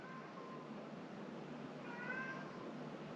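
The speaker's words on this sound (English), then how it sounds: "That's my cat. He wants to be on video." A pet cat gives two faint meows, one at the start and a second a little later, heard at a distance over a steady background hiss in an otherwise quiet room.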